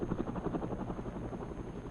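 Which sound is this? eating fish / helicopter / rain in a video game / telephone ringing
helicopter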